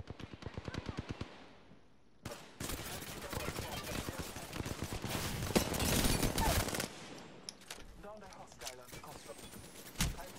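Gunfire in the video game Apex Legends: rapid bursts of automatic shots crackle close and loud, building into a dense fusillade and then thinning to scattered shots. Voices are faintly audible underneath.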